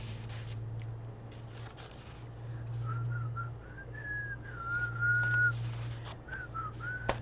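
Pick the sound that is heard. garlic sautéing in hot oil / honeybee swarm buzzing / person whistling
person whistling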